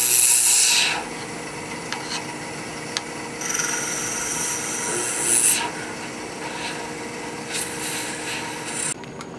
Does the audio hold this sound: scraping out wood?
yes